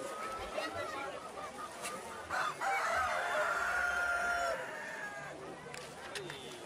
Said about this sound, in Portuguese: os galos cantavam o tempo todo